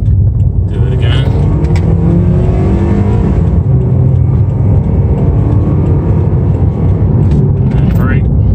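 A car is driven up to about 50 mph during a brake break-in procedure with R1 Concepts brakes. A loud, steady engine and road roar fills the cabin the whole time, with faint rising engine tones.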